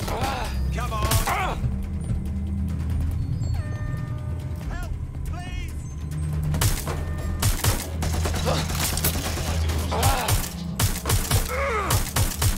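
Gunfire during a firefight in Watch Dogs Legion, scattered loud shots and bursts over a low rumbling background with people shouting and talking between volleys.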